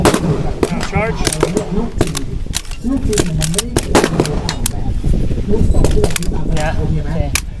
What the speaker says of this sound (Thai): ลองยิงดูนะครับ เย่ ยิงแบบอฟโต้นะฮะ